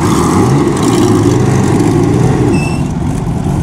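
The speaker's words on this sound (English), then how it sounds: "you can really hear that throat of that car" A classic 12-cylinder car sits idling nearby at a concours show, a loud, steady low rumble that carries on without a break for several seconds.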